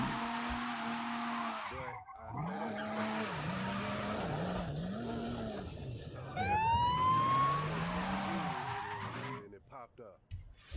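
A video game police siren wails, rising and falling repeatedly over engine noise, with tires squealing briefly near the end; people talk over it.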